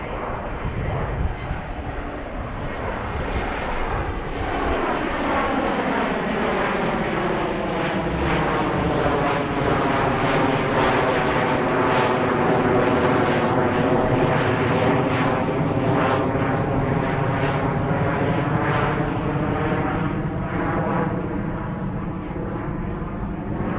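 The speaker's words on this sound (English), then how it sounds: "I think this is a 727." A Boeing 727 lands on runway 9 right at Philadelphia airport, its loud jet roar sweeping steadily past with a clear pitch shift as it passes, sustained and close throughout.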